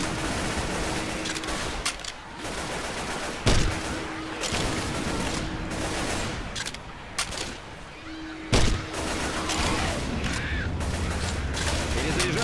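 Rapid bursts of automatic gunfire in the Left 4 Dead 2 zombie shooter, loud and close, broken by short pauses and a couple of sharp heavy blasts, with no talk.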